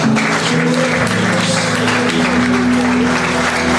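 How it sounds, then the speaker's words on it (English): Loud, full applause from a packed church congregation on Missions Sunday, continuous crowd clapping throughout with a sustained musical tone underneath. "let's give him another clap offering"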